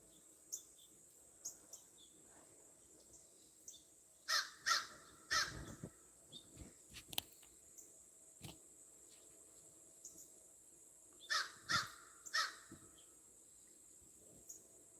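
Crows caw in short bursts of two or three calls, one answering another, with quiet gaps and faint insect chirping between them.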